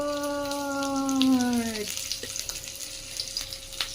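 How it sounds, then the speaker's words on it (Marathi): A semolina-coated pomfret frying in hot oil gives a bright, crackling sizzle. A drawn-out vocal sound rises over it at first, then the frying carries on alone with small pops. "सर्रास आवाज येतोय, सगळ्यांचा फेवरेट"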